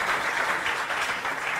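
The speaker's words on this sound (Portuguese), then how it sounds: "Já agora um aplausinho, não?" Audience applause at a live show, a steady wash of clapping from a crowd held at moderate level throughout, with no voices over it.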